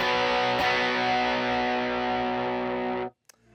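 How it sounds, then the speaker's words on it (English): Electric guitar chord on the highest gain setting, heavily distorted, rings out with thick, saturated sustain for about three seconds, then is cut off sharply, leaving a faint string noise. "The tone I'm using for this is I'm using my highest gain setting,"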